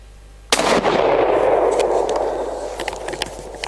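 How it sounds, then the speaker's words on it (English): A single sharp, loud shot from an Anschutz 1770 .223 rifle cracks out close by, followed by a long rolling echo that fades over several seconds outdoors. "I'll just reload and we'll take a few more shots"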